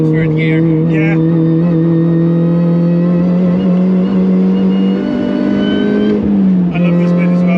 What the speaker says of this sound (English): This is always nice when you can keep this whole section in third gear.